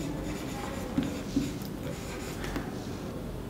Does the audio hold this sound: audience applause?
no